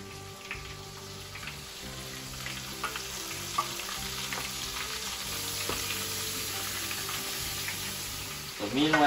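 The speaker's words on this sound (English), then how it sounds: "Meanwhile, that one is frying." Soft, steady crackling and sizzling of tempura-battered squid frying in hot oil, with small pops and bubbles throughout, growing a bit louder at the end.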